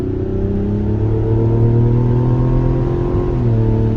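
A Mazda CX-90 with the turbocharged six-cylinder engine pulls hard under acceleration, a loud, smooth rising drone heard from inside the cabin, steady and continuous with a brief dip near the end, no talking.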